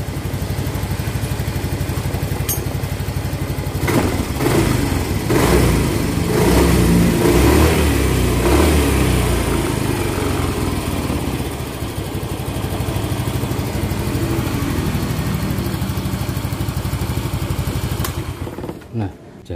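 A Yamaha Mio GT125 motorcycle engine fitted with a Vario 125 piston runs steadily at close range, with a low, continuous mechanical hum and some rising revs. Speech is faint or absent throughout.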